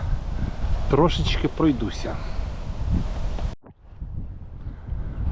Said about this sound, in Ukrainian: Погода вітряна